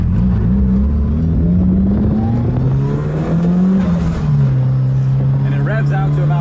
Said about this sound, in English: So I put a 274 cam in it, so it chops at low RPM.